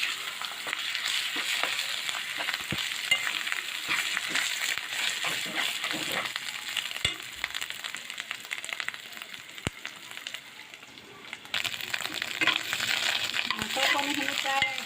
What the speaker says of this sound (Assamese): মাছৰ কণীখিনি প্ৰায় আধা ভাজি হৈ গৈছে